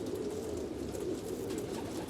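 Homing pigeons kept for racing coo steadily and close by, a continuous low murmuring mass of overlapping calls with no talk.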